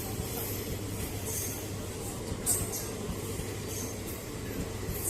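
Steady low rumble of a train passing at a railway station near Pathsala, continuous and fairly close, with a faint hiss on top and no voices.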